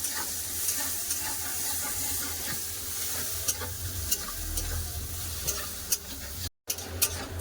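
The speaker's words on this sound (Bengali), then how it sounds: "পেঁয়াজটা ভালো করে ভেজে নেবো" Chopped onions fry in fish-frying oil in a kadai with black cumin, giving a continuous close sizzle with occasional spoon taps and crackles and a brief dropout near the end.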